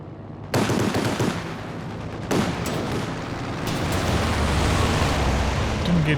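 In a World War II video game, a Soviet Sturmovik ground-attack aircraft strafes a Panzer IV tank, its guns ripping out two sharp bursts followed by a continuous loud rattling barrage.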